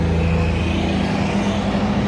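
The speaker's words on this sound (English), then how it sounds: "Here's the safety car, Ben currently at the front" Porsche race cars run behind the safety car at Donington Park, giving a loud, sustained engine drone with a steady low hum and no break, close by throughout.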